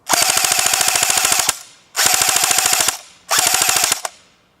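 An AGM MP40 airsoft gun with a mid-cap magazine fires three loud, close full-auto bursts of rapid, evenly spaced shots, each lasting about a second, with short pauses between them.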